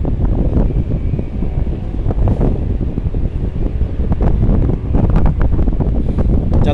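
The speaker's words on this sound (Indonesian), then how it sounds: "Kencang banget anginnya nih teman-teman malam ini." Strong night wind buffeting the microphone at a ferry pier, a loud, continuous rough roar with gusty surges and crackling bursts throughout.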